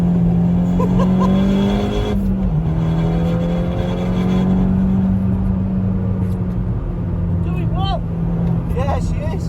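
A SEAT Leon Cupra Mk2 circles the Oulton Park track in greasy conditions, its engine droning loudly with shifting pitch as the throttle eases and returns, while a person talks over it.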